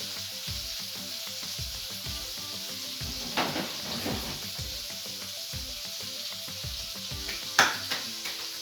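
Pork chops fry in a pan with a steady, close sizzle that runs throughout, broken by a few brief clinks and stirs.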